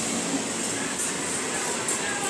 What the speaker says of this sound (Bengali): এই ট্রেনটা শিয়ালদহ কৃষ্ণনগর লোকাল।